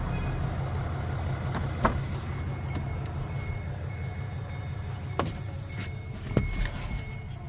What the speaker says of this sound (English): Now watch this as I open the door and sit in the car.